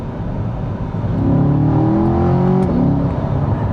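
A Chevrolet C8 Corvette's 6.2-liter naturally aspirated V8 drones steadily and close, with the engine note climbing as it revs up partway through, then easing back without any talk over it.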